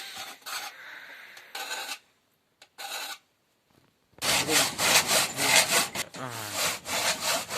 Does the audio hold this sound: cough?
no